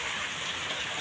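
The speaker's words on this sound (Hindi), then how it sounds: "पूरा ही बारिश ही बारिश है" Heavy rain pours down steadily on a flooded village during a monsoon storm in rural Bihar or Jharkhand, a dense, continuous hiss close to the microphone with no voices.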